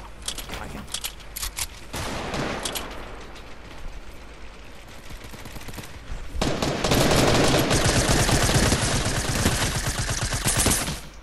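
Rapid, dense gunfire from Fortnite, with bursts of shots and automatic fire growing louder and more continuous in the second half, close and loud with no speech over it.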